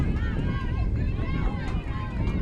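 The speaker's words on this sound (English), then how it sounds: "Wind continuing to surge." Wind gusting into a crowd microphone at an outdoor junior college softball game, a steady loud rushing roar buffeting the mic throughout.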